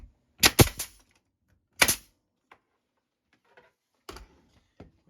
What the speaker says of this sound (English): Or you can take your 1/4 inch staple gun and staple them.